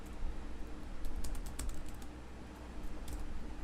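Fast, light typing on a computer keyboard while entering Python code, with quick clustered keystrokes over a constant hum.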